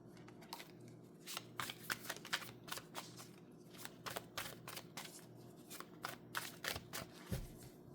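Tarot cards are shuffled and drawn by hand during a reading, a quiet close run of soft riffling snaps and flicks in uneven clusters, with no voices over them.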